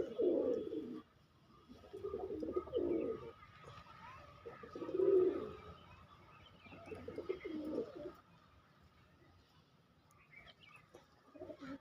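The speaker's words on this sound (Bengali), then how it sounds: "গোলা ওই যে কাসমা, একদম লং দৌড়ানোর পায়রা।" Long-distance racing pigeons give several distinct, close coos in repeated bursts of about a second each, separated by short pauses over faint background noise.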